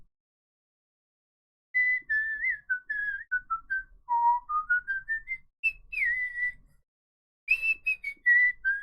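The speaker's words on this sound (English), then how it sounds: "I can give you a whistle, soldier's whistle from The Soldier and Death" A lone person whistles a wavering melody, the soldier's tune from The Soldier and Death, in several clear phrases with short pauses, close and fairly soft, with no talk.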